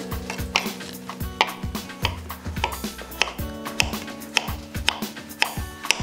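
A knife cutting avocado for a smoked salmon salad, heard as a rapid run of close, sharp taps of the blade on a board with light clinks of kitchenware between them.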